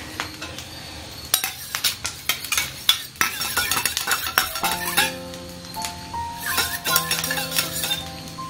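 A spoon scrapes and clinks against a bowl while green chili, red chili, tomato and dark soy sauces are stirred together for pasta. Quick metallic taps come up close under faint background tones.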